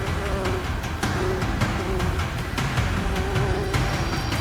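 A swarm of angry bees swarms around a hive, a dense continuous buzzing with overlapping wingbeat drones, close and steady, with faint clicks and rustles beneath.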